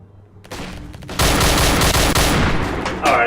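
Dense, rapid gunfire erupts in a VR battle royale game, with a few shots first and then a sustained, loud barrage of overlapping bursts lasting about two seconds.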